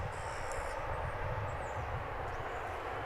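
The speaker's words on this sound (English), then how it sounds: "What you were looking at there was an Airbus A321 American Flight 2612 arriving from Denver, Colorado." An American Airlines Airbus A321 arriving from Denver at Dallas Fort Worth airport, a steady, fairly faint jet roar with a low rumble that holds throughout.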